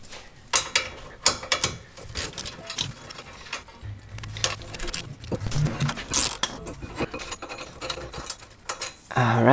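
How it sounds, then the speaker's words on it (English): Ratchet wrench backing out a brake caliper bracket bolt on a Subaru BRZ or Toyota FRS during a brake upgrade, giving rapid bursts of close metallic clicking with pauses and small clanks, no talk. "Now we can grab our ratchet and take off the bolt the rest of the way."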